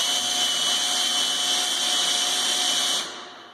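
A cordless drill with a 1-1/8 inch socket turning a vehicle's axle pinion, a steady high whine held for about three seconds before it winds down and stops.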